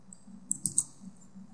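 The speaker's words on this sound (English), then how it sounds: "you can just click delete" Mouse clicks while editing an image in GIMP: three quick, crisp, close clicks in rapid succession, followed by a fainter one, over a low background hum.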